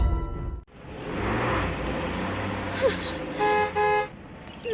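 A car horn toots twice in quick succession, loud and close, over a rumbling engine and road noise.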